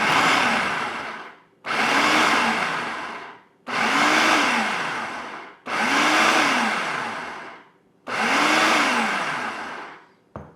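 A food processor pulsing butter into flour for a strawberry galette: five separate whirring bursts, each about a second and a half long with a rising then falling motor pitch, separated by short pauses, loud and close.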